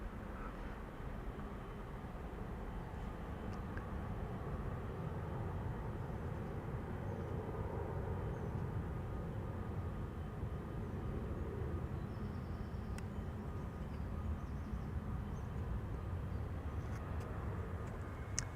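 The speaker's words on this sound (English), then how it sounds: "KLM flight 791 to Sao Paulo is spooling up" A KLM Boeing 777-300ER's engines spool up for departure at Amsterdam Schiphol Airport, a broad, steady low roar that holds at a constant level from a moderate distance for the whole stretch.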